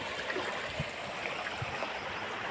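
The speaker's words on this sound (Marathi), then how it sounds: "हा पाण्याचा प्रवाह" Floodwater from a cloudburst flows through farm fields and soybean crops near Kopargaon, giving a steady, dense rushing wash with no voices.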